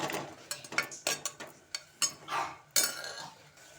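A metal spoon stirs peas pulao in a pan, giving a close run of quick scrapes and clinks, about ten uneven strokes in a loose rhythm.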